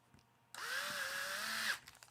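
A small power driver tightens a screw on an EB48 2.0 RC buggy shock, a single steady whirring whine lasting just over a second that starts abruptly and stops sharply, alone in a quiet room.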